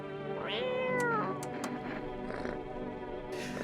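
A cat in a video game meows, a single clear drawn-out call followed by softer vocal sounds and light background game noise.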